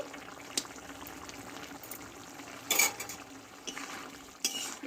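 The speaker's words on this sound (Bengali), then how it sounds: "সবগুলো একসঙ্গে ভালোভাবে একটু নাড়াচাড়া করে নেব" A spoon or spatula stirs a soft vegetable curry with ghee and garam masala in a pan, making faint scrapes and a few sharper clinks over a quiet background, with no voices.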